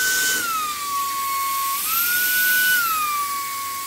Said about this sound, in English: Now, we've got extreme suction.